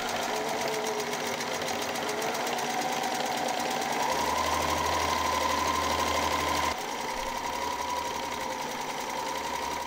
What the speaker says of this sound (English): at the beginning and the end of this seam, we'll double back and forth to reinforce the seam